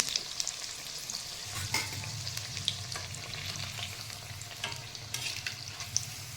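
Elephant foot yam (suran) fritters frying in hot oil, a steady broadband sizzle throughout with stirring scrapes and a low rumble joining partway, close and continuous with no talk.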